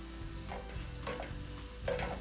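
Onions added to a pan on low heat for a vegan brown stew tofu, a faint soft sizzle with a few light scraping stirs and a low steady background hum.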